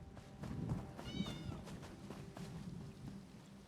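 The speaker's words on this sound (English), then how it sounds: "I heard a kitty cat." A cat in the video game The Elder Scrolls Online gives a single short, faint meow over a low, murky ambient background.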